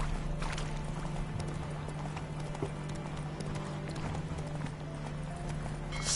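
Horse hooves gallop at a steady running rhythm in The Witcher 3, a continuous clip-clop of hoofbeats over a low hum of game ambience, close and fairly even throughout.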